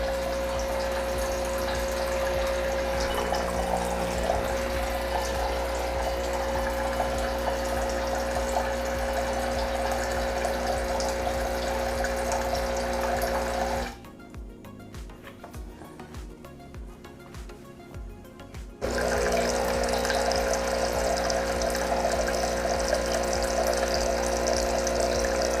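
A Breville Barista Pro espresso machine runs steadily while dispensing hot water during a descaling cycle, a continuous pump hum with trickling water that cuts out for a few seconds midway and then resumes at the same level.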